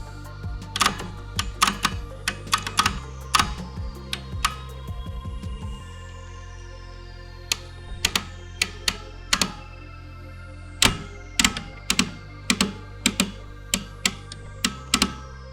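Keys clack on the keyboard of a NEMA cipher machine, a Swiss mechanical encryption device, in sharp separate strikes, some in quick runs and others spaced apart, over a low mechanical hum.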